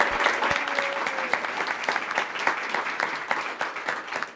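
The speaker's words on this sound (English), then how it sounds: "Another round of applause for Tricia" An audience at a 1 Million Cups Kansas City pitch event bursts into sustained applause for a presenter named Tricia, a dense, steady roar of many hands clapping that holds for several seconds.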